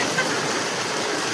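Rain-driven flood water rushes through a field drain, making a loud, steady roar that stays constant from start to finish.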